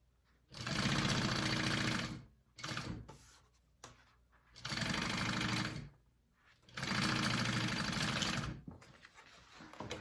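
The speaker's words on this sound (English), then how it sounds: "we're going to put it up here and baste it on" Sewing machine stitching a basting seam to attach the top piece of a fabric backpack, running in three long steady bursts with short pauses between, close and loud with no talking.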